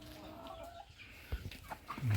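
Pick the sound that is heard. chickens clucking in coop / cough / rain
chickens clucking in coop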